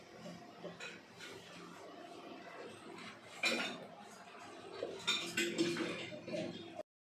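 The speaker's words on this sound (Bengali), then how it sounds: "এখন বাসন মাজবো" Dishes, pots and utensils being washed by hand clink and clatter intermittently up close, with scattered metallic chinks and scrapes that grow busier toward the end.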